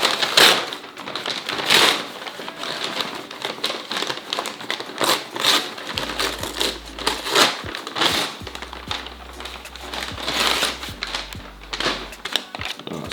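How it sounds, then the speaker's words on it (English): A plastic shopping bag being torn up by hand, loud close bursts of crinkling and ripping in irregular rapid succession, with no talk. "Just rip up the shopping bag"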